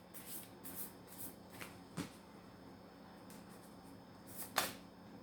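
Tarot cards shuffled and picked up in a quiet room, a few soft riffling bursts and light card taps, faint and close with no talking.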